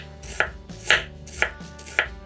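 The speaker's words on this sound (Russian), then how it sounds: "Одну половинку лука нарезаем полукольцами." A knife chops a halved red onion into half rings on a board, four crisp cuts in an even rhythm, close and clear with no talk.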